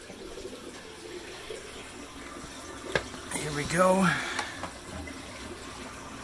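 Water rushes and splashes through the sump pump of a 240-gallon aquarium during a water test with no filter media installed yet, a steady wash that swells into a louder gurgling surge midway, with someone talking briefly.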